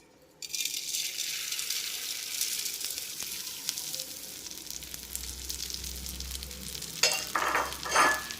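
Broken wheat rava roasts in ghee in a pan, a steady close sizzle that starts abruptly and runs throughout, with a few louder stirring scrapes toward the end.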